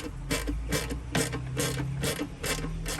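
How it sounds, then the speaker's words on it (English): Ratchet with an 11mm socket tightening a bolt while fitting a washer fluid reservoir on a 3rd-gen Toyota 4Runner, giving a run of about eight quick, even clicking bursts up close. "So I got a 3/16 Allen and also 11mm, and we're just gonna tighten it up."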